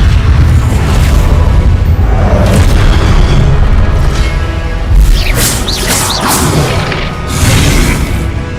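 Confringo blasting-spell explosions in the Hogwarts Legacy video game, loud booming impacts over a constant heavy rumble, with several crashing bursts and swooshing streaks clustered toward the middle and end.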